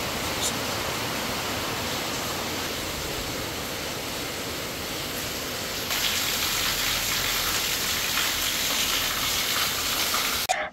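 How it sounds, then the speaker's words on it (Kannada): Heavy rain beats down steadily, a constant dense wash of hiss that grows slightly louder partway through and carries on without pause, with no voices over it. "ನೋಡಿ, ಅವತ್ತು ಯಾವ ರೀತಿಯಾಗಿ ಮಳೆ ಬರ್ತಾಯಿತ್ತು ಅಂತಂದರೆ ಅಷ್ಟು ಜೋರು ಮಳೆ ಅವತ್ತಂತೂ."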